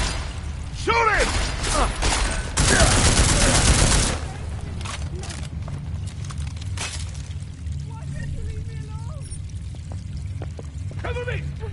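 Gunfire bursts loudly from a PS4 video game in the middle of the scene, a dense, rapid volley lasting over a second, with game characters shouting and background game ambience before and after.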